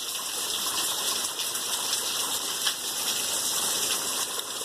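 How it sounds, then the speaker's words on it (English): Steady rain falls outdoors on a school day, a continuous hiss of water that stays even and moderately loud throughout, with no voices. "it's raining right now"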